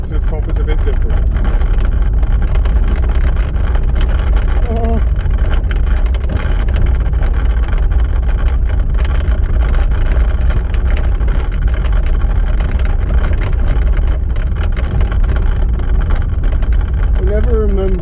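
A vehicle jolts along a rough track on the approach to Ludgershall Castle, with constant loud rumbling and rattling throughout and a voice talking over it.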